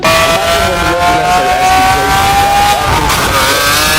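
A Lamborghini twin-turbo V8 revs high, screaming continuously at close range, its pitch climbing steadily, then briefly dipping and rising again near the end.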